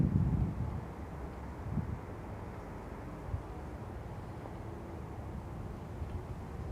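Wind gusting across an open plain off Endicott Street in Danvers, a steady low rumble of buffeting against the microphone with a stronger gust at the start and occasional swells, no voices.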